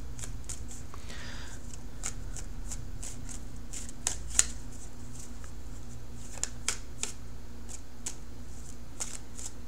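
Deck of tarot cards being shuffled and cut, a series of crisp separate snaps and riffling flicks close up, irregularly spaced across a quiet room with a low background hum.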